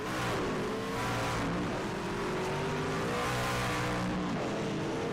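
Race trucks in a racing video game roar out of pit lane in a pack, engines droning and shifting pitch as they accelerate, loud and continuous, with a brief tire squeal.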